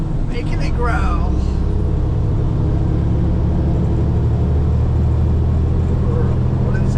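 A used truck's engine rumbles steadily and loud throughout, a deep continuous low growl filling the cab with no break.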